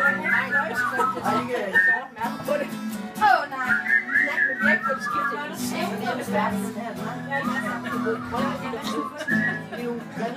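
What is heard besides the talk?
people whistling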